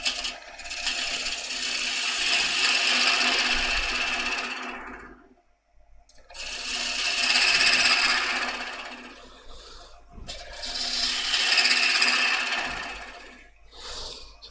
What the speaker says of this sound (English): we're going to bring our bowl gouge back just to clean out with the bowl gouge